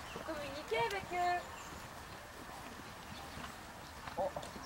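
Horses walking during tarp desensitisation at an equestrian stable, hooves clip-clopping faintly amid low chatter, with a few brief louder sounds and voices talking over it.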